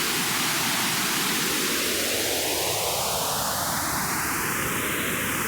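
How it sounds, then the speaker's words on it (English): Steady pink noise run through a phaser pedal, its notches sweeping slowly upward and back down for a whooshing, jet-like swirl that stays loud and continuous with no talking. "What you're hearing and seeing is phase cancellation being swept back and forth in a pleasing manner"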